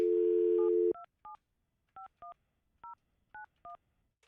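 Touch-tone telephone keypad dialing: a steady dial tone for about a second, then eight short, evenly spaced dual-tone beeps pressed one after another, clear and alone with no talk.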